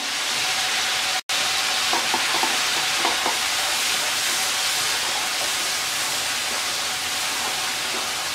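Ground chili, turmeric and coriander powder fry in a hot pan, giving a steady, loud sizzle with faint scraping stirs, briefly cut off near the start, and no voices.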